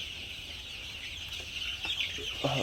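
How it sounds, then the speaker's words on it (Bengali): Chickens cluck softly over a constant farmyard hiss, with a couple of louder calls near the end; the birds sound moderately close. "তো আপনার মুরগিগুলো তো আপনারা দেখতেই পাচ্ছেন"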